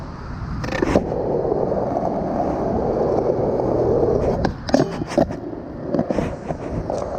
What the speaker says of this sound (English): where the back truck sort of hit the rail